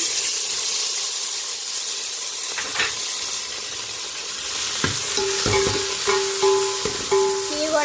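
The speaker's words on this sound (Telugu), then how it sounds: "పచ్చిమిర్చి కూడా బాగా ఫ్రై చేసేసుకున్నాను." Tomatoes and green chillies frying in oil in a home kitchen pan, a steady low sizzle with occasional stirring scrapes and clinks of a utensil against the pan, no talking.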